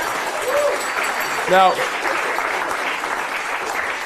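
Steady crowd applause for a volunteer after a card trick in a magic performance, continuous clapping at moderate level with a brief voice and a bell-like tone cutting through midway.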